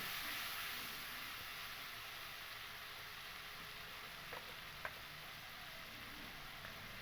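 Cauliflower and spices frying in a pan for a vegetarian Bengali curry with paneer and potato, a steady broad sizzle and hiss held throughout, with a couple of faint clinks near the end.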